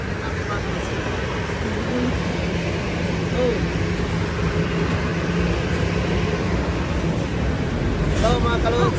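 Steady, broad jet-engine roar fills an airport as an airplane runs nearby on the trip home from Alaska, a constant wash of noise with a faint tonal whine and a few brief higher chirps near the end.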